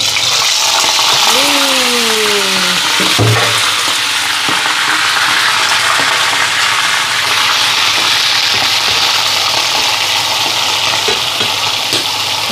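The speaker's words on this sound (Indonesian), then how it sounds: "Sekarang saya mau goreng cumi." Squid sizzling steadily in a hot pan, a loud continuous frying hiss throughout with a few brief clinks of a utensil early on and no talking.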